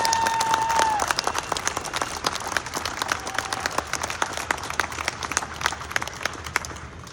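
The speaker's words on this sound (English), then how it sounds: "Please give yourselves a round of applause." A car show crowd claps for themselves, with individual handclaps standing out as sharp, scattered beats in a moderately sized outdoor gathering, and a brief tone at the start.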